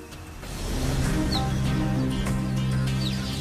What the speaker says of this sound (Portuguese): ela emite um som que soa como um pássaro